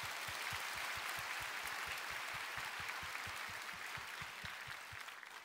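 A church congregation claps together in a steady, even rhythm of roughly four beats a second, broad and moderately distant, with no voices over it.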